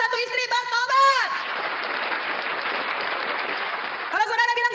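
Audience applause at a religious debate, a steady broadband wash of clapping lasting about three seconds, loud and close, with someone speaking just before and just after it.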